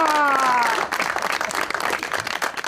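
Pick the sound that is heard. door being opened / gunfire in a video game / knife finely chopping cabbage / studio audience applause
studio audience applause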